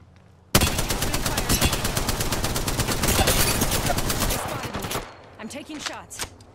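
Rapid automatic gunfire in the video game Apex Legends, a dense burst of close, loud shots lasting several seconds before tapering into scattered impacts and game effects.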